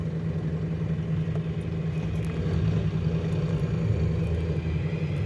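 Steady low rumble of road traffic near the Marilao overpass on NLEX, a continuous droning hum of vehicles at moderate distance with no talk.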